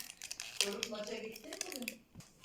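The wrapper of a gold-coated Dubai chocolate bar crinkles as it is opened, a short close rustle under a speaking voice.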